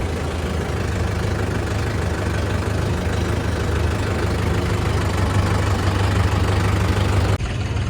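A tractor's heavy diesel engine idles steadily and loud with a deep low throb, close by and alone, cutting out abruptly near the end.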